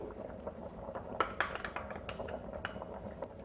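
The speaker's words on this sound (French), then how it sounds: "On remue délicatement pour ne pas abîmer les filets." Tender cooked fish fillets being gently stirred with pasta in a pan give soft, irregular clinks and scrapes of a utensil, close and quiet, with no talking over them.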